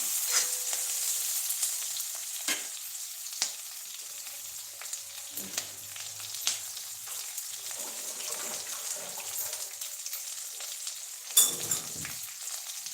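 Oil sizzles faintly and steadily in a pan as food is shallow fried while methi matar malai pulao is cooked, with soft scattered clicks and taps of a utensil over the constant hiss.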